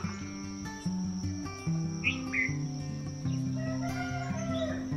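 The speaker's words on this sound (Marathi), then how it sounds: "पक्षी वगैरे आरडतात कोंबे आरडतात" Roosters crow and hens cluck amid steady insect chirring, with a few faint bird calls over a busy rural background.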